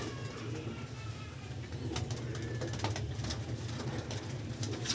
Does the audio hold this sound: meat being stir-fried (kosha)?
no